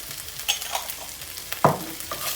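Garlic and ginger paste frying in a pan while being stirred, with soft scraping strokes and a light sizzle, close up and fairly quiet, ending in a sharper clatter.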